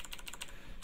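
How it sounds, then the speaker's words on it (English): Quick keystrokes on a mechanical keyboard, about eight close, crisp clicks in rapid, slightly uneven succession, with no talk. "I apologize if anybody doesn't like mechanical keyboards"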